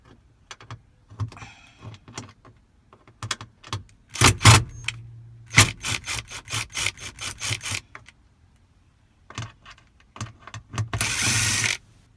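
Screws come out of an Acura RSX, 2002–2006, under a Phillips screwdriver as bursts of ratcheting clicks and rattling metal, close by, stopping and starting in rapid runs between short quiet gaps.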